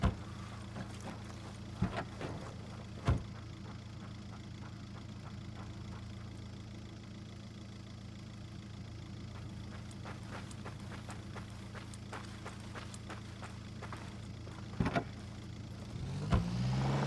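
A vehicle is driven in the video game Ghost Recon Wildlands, giving a steady, low engine drone that holds through the whole stretch, with a few brief clunks and thumps along the way.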